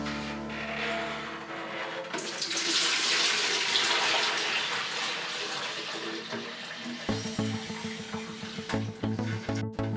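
Water pouring from a tap into a graduated plastic bucket, a rushing splash that swells and stays steady for several seconds before cutting off, followed by faint clattering and handling noises.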